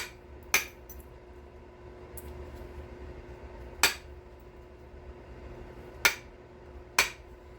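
Novaculite stone is knapped to square off the base of a Dalton point. Four sharp, isolated clicks ring out close by at uneven intervals over a quiet background.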